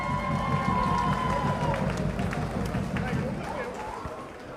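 Audience at a Dutch Limburg carnival song contest applauding and cheering a finalist act, a dense steady wash of clapping and crowd noise with voices mixed in, fading slightly toward the end.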